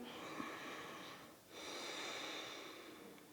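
A deep, steady breath drawn in during a yoga moon salutation, close and airy, a long hiss with a brief dip midway before continuing at a steady level with no talking.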